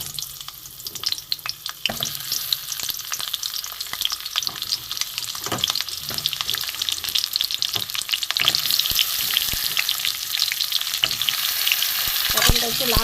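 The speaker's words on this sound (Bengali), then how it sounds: "আমি পটলগুলো প্রথমে ভেজে নেব।" Sliced pointed gourd (potol) frying in mustard oil in a kadai, a continuous crackling sizzle with occasional sharper pops and stirring scrapes, close and steady.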